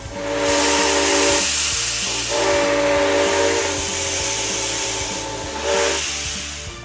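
Toy train steam locomotive whistles blow loudly in repeated long blasts over a continuous steam hiss, with a rhythmic mechanical chuffing underneath throughout.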